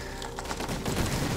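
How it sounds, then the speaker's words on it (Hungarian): Ship cannons fire in a multiplayer naval battle in the game Besiege, a dense, steady barrage of booming shots layered over one another at moderate loudness. "Amíg az ágyúim lőnek, én élek."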